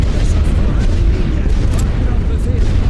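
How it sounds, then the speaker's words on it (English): Artillery shells in The Great War: Western Front pound a battlefield, a dense, loud, continuous rumble of booming blasts with sharper bursts scattered through, heavy low-end throughout. "We can blow all this up. Artillery's going down."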